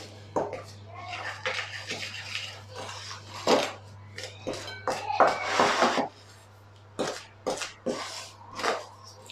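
Biscuit dough for Eid being mixed with icing sugar in a mixing bowl: a run of irregular scraping and clinking strokes close by, with a steady low hum underneath.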